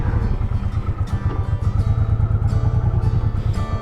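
A motorcycle rides along on a trip, its engine a loud, close, steady throbbing rumble that runs through the whole stretch with no voices.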